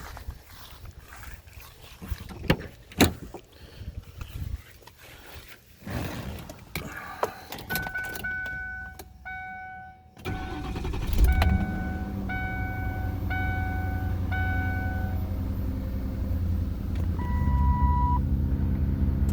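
A 1997 Lincoln LSC with about 51,000 miles is started after some clicking and chime tones, then its engine settles into a steady, close idle hum while warning beeps repeat over it.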